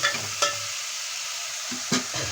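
Chopped tomatoes cook down in a pot for drumstick sambar as a spoon stirs them, with a few sharp scrapes and clanks against the pan over a quiet background sizzle.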